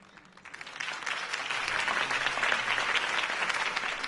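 Crowd applause in a video game rises after a campaign speech, swelling within the first half second into a dense, sustained roar of clapping that stays loud and even without any voices on top.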